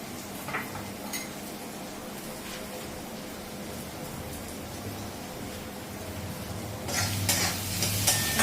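A spice mixture with tomato sauce is stirred in a pan, soft scraping and clinking of a spoon under a faint sizzle, with louder, quicker scraping strokes toward the end.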